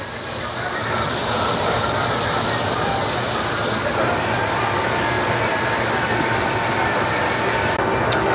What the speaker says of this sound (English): We're gonna render the bacon and get it nice and perfectly crispy.